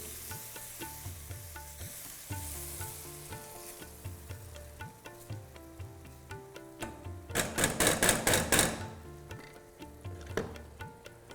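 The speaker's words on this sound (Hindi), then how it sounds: "वक्त बर्बाद ना करते हुए तुरंत के तुरंत ये गई फ्रेश टमाटो की प्यूरे।" Fresh tomato puree poured into a hot pan of lightly fried coriander for lauki kofta bursts into loud, close sizzling, with stirring clatter before and a brief fading hiss after.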